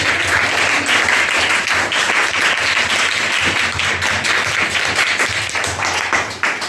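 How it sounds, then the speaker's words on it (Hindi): An audience at a children's debate on plastic gives sustained, loud applause that fills the space evenly from start to finish, with no clear talk over it. "श्री अजीत कुमार पटेल, उनके लिए भी एक जोरदार ताली।"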